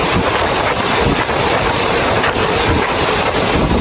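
An ordinary passenger train, service 201 from Bangkok to Phitsanulok, runs on rails near Phitsanulok, heard from inside as a loud, steady, close rumble with a faint clickety-clack rhythm and no voices.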